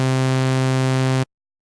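Serum synth tone built on a Juno-style wavetable with a small pulse-width bump, a single buzzy sustained note held steady for over a second, then cut off abruptly into silence.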